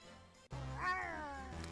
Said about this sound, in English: Edo, thank you for the kitty jump scare.